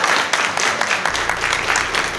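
Audience applause at an organisation's event, a dense burst of clapping that stays steady and fairly loud throughout the short stretch.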